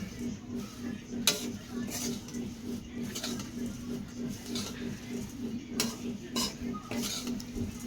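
Flattened rice (chira) fries in a pan with a little black cumin and salt, with a soft continuous sizzle under repeated scraping and clinking of a utensil stirring against the pan, plus a low steady hum.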